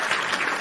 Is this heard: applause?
yes